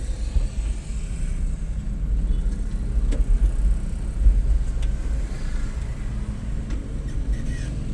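Steady low rumble of cars idling and creeping in a queue on the road out of the Banjarwijaya housing complex, a continuous near engine drone with faint passing noises and no voices.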